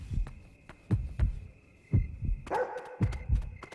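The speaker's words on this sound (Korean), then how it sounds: "강아지 개다. 개네." A dog in the Yomawari horror game barks in a series of sharp, moderately loud woofs at an uneven pace, over faint game ambience with a sustained tone and a brief scraping burst near the end.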